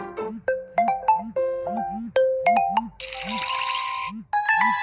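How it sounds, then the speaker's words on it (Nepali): A phone plays a run of Messenger app notification tones one after another: short bright chimes, dings and a brief jingly burst, each separated by small gaps and heard clearly with no voices. "यहाँ धेरै टाइपको नोटिफिकेसनहरू छन्"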